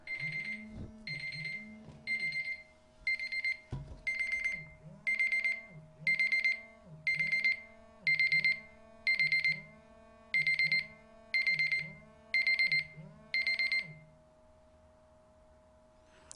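A timer alarm rings during a classroom lecture, sounding as a loud, regular series of about twelve electronic beeping bursts, each roughly half a second long with short gaps, then stopping.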